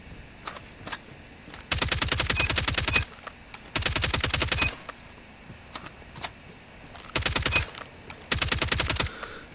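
LK24 rifle fire in Call of Duty Mobile comes in five sustained automatic bursts of rapid, crisp shots, separated by short pauses with a few isolated single shots in between.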